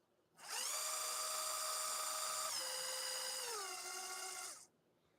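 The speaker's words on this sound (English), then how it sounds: "Let's use a tiny drill bit. This is a 5/32 drill bit." A small power drill with a 5/32-inch bit whines steadily for about four seconds, its high pitch stepping down slightly as it bites, then stops abruptly.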